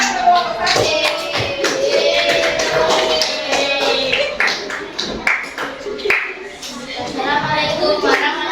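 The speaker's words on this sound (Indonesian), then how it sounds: "tepuk tangan untuk kelompok 1" Children in a classroom clap for a group, a busy mix of uneven hand claps and taps heard close and loud, with young voices chattering throughout.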